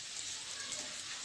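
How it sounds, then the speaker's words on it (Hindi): Onions sizzling as they fry golden brown in a pan, a brief, steady, bright hiss of hot oil up close. "देखिए हमारी प्याज जो थी वो भुनने लगी है, गोल्डन ब्राउन होने लगी है वो।"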